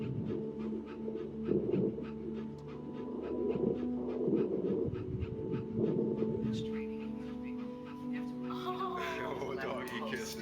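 A dog panting and licking in the video game That Dragon, Cancer: quick, soft rhythmic pants and wet licks close by, under a bed of quiet music and a voice talking.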